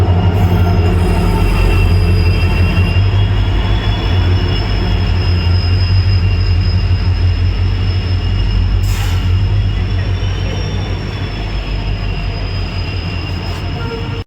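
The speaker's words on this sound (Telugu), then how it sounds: "ట్రైన్ కదిలింది." A passenger train pulls away from a station platform. A loud, steady rumble of rolling railcars runs throughout, with sustained high metallic wheel squeal on top, heard up close and without talking.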